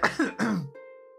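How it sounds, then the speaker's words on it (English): A loud throat clearing followed by a second raspy cough-like clearing, close up, ending in a faint steady tone. "Sorry about the coughs."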